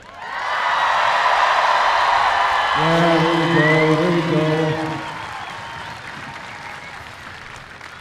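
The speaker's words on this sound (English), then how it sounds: "let's get one last big cheer for all these graduates" A crowd at a Class of 2025 graduation ceremony cheers and applauds the graduates, a loud, sustained wash of clapping with whoops that peaks and slowly fades, while someone speaks briefly over it.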